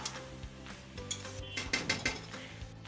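Mutton curry with potatoes being stirred and fried in a pot, with scraping and clinking of a utensil against metal in an irregular rhythm over a faint sizzle.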